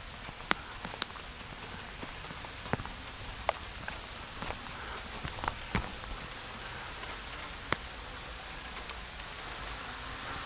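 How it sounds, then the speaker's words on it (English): Steady, dense rain hiss fills the scene, with scattered sharp drips and taps standing out now and then, close by and without voices. "the rain's just started coming in quite heavily"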